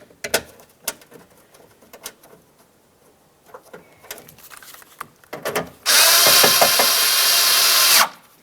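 A power drill drives a mounting screw for a door lock actuator on a 2006-2010 Ford Explorer. Light clicks and handling noises come first, then a loud, steady whirring run of about two seconds.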